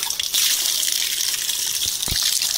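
Cleaning water, mixed with washing powder, gushes out of a drum in a loud continuous pour with a brief splash near the end.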